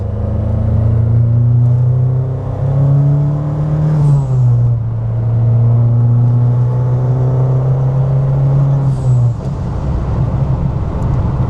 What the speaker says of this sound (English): So we'll give you a nice third gear pull up here.